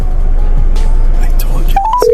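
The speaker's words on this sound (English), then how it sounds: "I gotta call Anna. Let her know we got pulled over" A phone is dialed inside a car during a traffic stop, with a short run of bright keypad tones near the end after a stretch of low cabin rumble.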